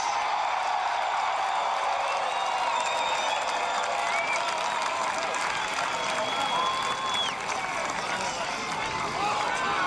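A large crowd at a Donald Trump campaign rally in Madison, Alabama roars, cheers and claps in a dense, sustained wash of noise, with occasional whistles cutting through near and far.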